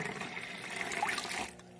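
A cup of water is poured into an aquarium filter, a close, steady splashing gush lasting about a second and a half before tapering off abruptly.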